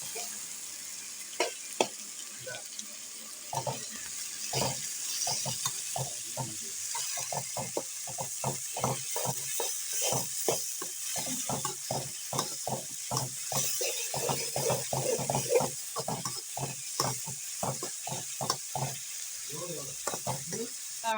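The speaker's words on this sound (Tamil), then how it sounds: "வெங்காயத்தை நல்லா வதக்கிக்கலாம்." Onions with cardamom, cinnamon, fennel and green chillies sizzle in oil in a kadai, a steady close frying hiss broken by rhythmic scraping stir strokes of a spoon throughout.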